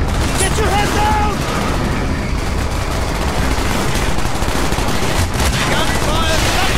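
Dense, continuous machine gun fire rattles throughout, with bursts of gunfire layered over a busy, loud battle din and occasional shouted voices, in the video game Call of Duty: Black Ops campaign.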